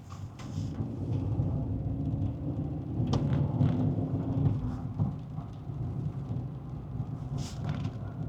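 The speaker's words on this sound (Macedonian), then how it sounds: "Се уште паѓа дожд." Rain falling steadily while driving along a tree-lined street in a mountainous, forested part of western Slovenia, with a continuous low wash and a few sharper knocks and splashes.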